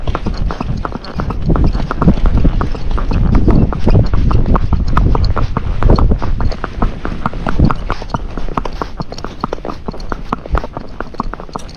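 Hooves of a ridden Fox Trotter horse clip-clop steadily along a road in a quick, even gait, the close, continuous beat running the whole way with no talk.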